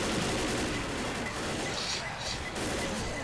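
Continuous gunfire from the video game Left 4 Dead, a steady dense barrage of shots with faint voices mixed in.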